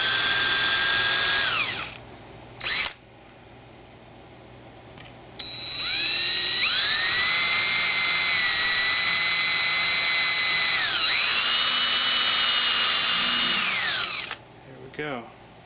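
A power drill bores a hole in the plastic wall of an electroforming tank, whining in several loud, close bursts with rising and falling pitch as the bit speeds up and slows, with short pauses in between.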